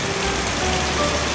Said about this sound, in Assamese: যিমান পাৰে সিমান স্পীডতহে দিব ধৰিছে বৰষুণ